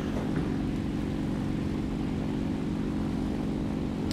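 Fw 190 fighter engine in War Thunder throttling up for takeoff, a continuous loud piston drone with steady low harmonics and no speech.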